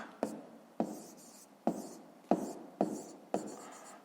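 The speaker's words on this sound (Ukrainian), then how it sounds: "Пишемо до сотих." A pen writes numbers on paper in six distinct scratchy strokes, each a sharp tap followed by a brief rasp, evenly spaced and close up.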